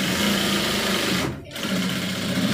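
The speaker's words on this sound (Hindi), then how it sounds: "यहाँ पर इस तरीके से एक लग की सिलाई कर लगा देंगे" A sewing machine runs steadily while stitching a pocket on garment fabric, a loud continuous whir that dips briefly in the middle before carrying on.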